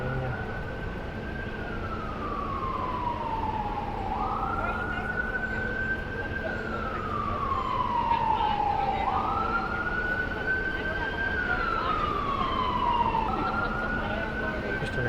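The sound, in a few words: ambulance siren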